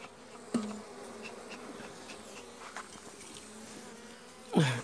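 Honey bees buzz around a weak hive in June, a steady faint drone with a few louder passes as bees fly close, the last one near and loud.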